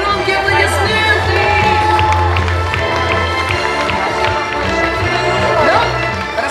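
An audience at a dolphinarium show applauds and cheers loudly and steadily, the clapping dense and continuous, with a low-pitched tone running beneath.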